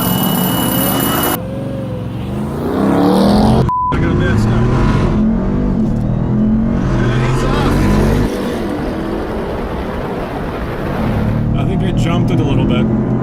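A Jeep and a RAM truck, both four-wheel or all-wheel drive, rev and accelerate hard side by side in a drag race, a loud continuous engine roar with shifting pitch, recorded close with wind noise and no clear talk.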